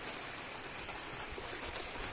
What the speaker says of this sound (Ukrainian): Ой-ой-ой, який дощик.